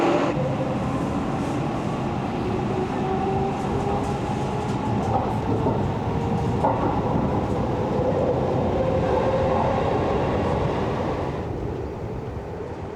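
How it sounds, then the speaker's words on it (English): A train on the Fukuchiyama Line in Japan's mountains rolls in, a loud sustained rumble with wheel clatter and faint squealing tones, easing off near the end as it slows. "Here comes my train."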